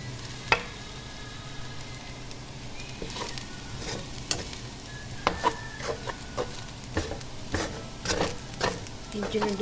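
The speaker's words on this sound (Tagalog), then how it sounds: "nilagay ko na po yung ginisa ko kaninang mga kanin" Freshly cooked rice, stirred into a pan for chao fan, sizzles steadily while a utensil scrapes and taps against the pan in irregular clicks, close and moderately loud.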